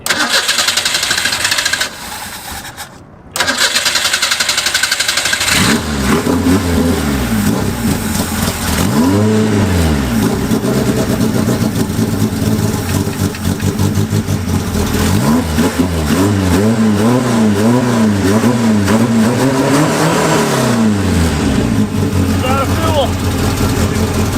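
A Ford Pinto race car engine cranks briefly, then catches and roars to life, revving repeatedly in loud rising and falling sweeps at close range, with voices talking over it at a track endurance race.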